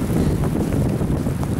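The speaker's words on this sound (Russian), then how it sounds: "Вот ветер уже поднялся." Strong outdoor wind buffets the microphone with a steady, loud rumble, no voices heard.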